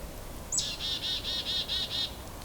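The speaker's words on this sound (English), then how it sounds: "Got hairy woodpecker, which is that squeaky one in the distance." A hairy woodpecker gives a distant, squeaky call outdoors during a winter bird count, a quick string of about seven high, evenly spaced notes over faint background hiss.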